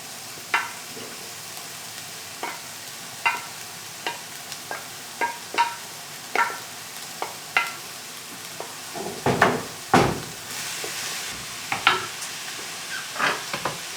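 Beef mince going back into a pan of softened vegetables, a low sizzle broken by repeated scraping and stirring knocks from a spoon, close up, louder clatters near the middle.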